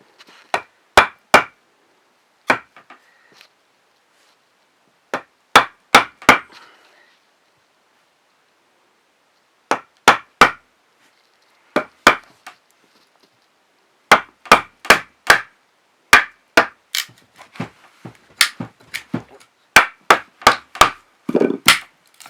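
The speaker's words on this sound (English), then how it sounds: "now I can just pop this off with my chisel" Mallet strikes drive a chisel through wood inside a lodge during furniture building, sharp loud cracks landing in quick clusters of two to four blows, separated by pauses.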